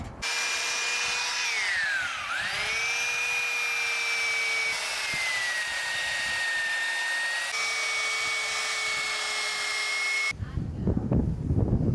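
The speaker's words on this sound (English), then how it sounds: "I'm going to take the belt sander and try and get out these ridges" A belt sander runs across a butcher block countertop in a van build, a loud steady motor whine that dips briefly under load, then cuts off near the end, leaving some handling knocks.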